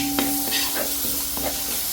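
Ground coconut masala with fried chili spices is sautéed in a pan for a fish curry. Close, scraping stir strokes sound over a soft continuous sizzle, with no talking.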